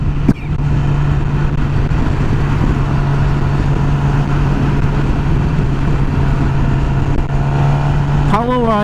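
A motorcycle rolls along slowly, its engine holding a steady low drone under rushing wind noise, with a brief rising whine at the very end.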